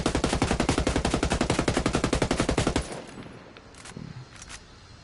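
Rapid automatic fire from an AUG assault rifle in the Ghost Recon video game, a loud, close, steady burst of about three seconds that cuts off into a quieter tail of faint ambient noise and a few distant clicks.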